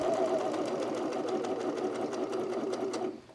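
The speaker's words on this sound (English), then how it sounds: "When you're doing these little curves on your serger, they can be a little tricky." Serger sewing machine stitching a curved fabric edge while sewing pants, a fast, steady mechanical whirr with rapid needle clatter that runs close and loud, then stops abruptly at the end.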